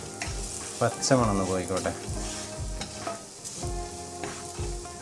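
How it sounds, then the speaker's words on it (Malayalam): Chili powder and turmeric are stirred into a masala frying in a pan for pepper chicken chukka, with rhythmic scraping strokes over a close, constant sizzle. A voice speaks briefly. "ഒരു 1/2 ടീസ്പൂൺ ചില്ലി പൗഡർ ഇതിട്ടൊന്ന് നല്ലോണം ഒന്ന് മിക്സ് ചെയ്ത് കൊടുക്കാം"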